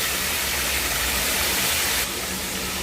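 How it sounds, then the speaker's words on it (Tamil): Native tomatoes frying uncovered in hot oil for a tomato pickle, giving a steady, loud broadband sizzle that holds evenly throughout, with a slight drop in intensity near the end and no talking. "நாட்டு தக்காளி தாங்க சேர்த்துருக்கேன் அது எண்ணெயிலே நல்லா வதங்கட்டும்"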